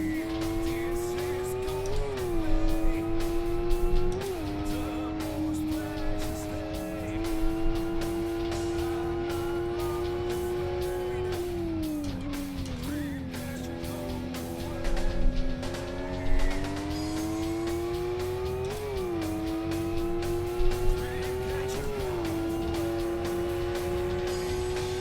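Road cars and GPR racers lap the Aston Cadet circuit in the Live for Speed racing game, one engine droning loud and steady throughout, dipping with each gear shift and rising again, with brief tyre squeals.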